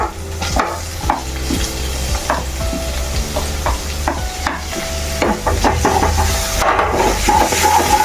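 Chopped ginger and garlic sizzle steadily in a hot pan while a spoon scrapes and stirs in repeated knocks, a close, continuous frying hiss with no talking.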